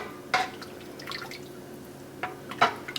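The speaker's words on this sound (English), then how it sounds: "So let's just get some gravy in here." Gravy is poured into a pan with chuck steak, a few soft, close liquid splats and drips at irregular intervals over a quiet background.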